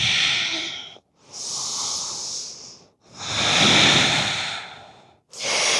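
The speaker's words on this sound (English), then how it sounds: "Breathing deeply here." Deep, slow breathing during a yoga session: long, airy inhales and exhales close to the microphone, three full breath cycles separated by brief silent pauses.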